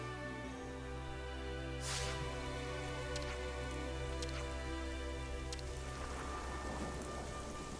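Rain falling in Xenoblade Chronicles 3, a steady patter and hiss of drops over a low humming game background, with a few brief louder splashes scattered through.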